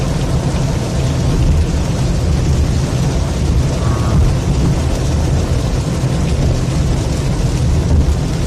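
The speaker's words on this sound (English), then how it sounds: "Sorry if the rain noise is really loud." Heavy thunderstorm rain hammers on a car roof, a dense, loud, unbroken roar that fills the whole stretch with no talking.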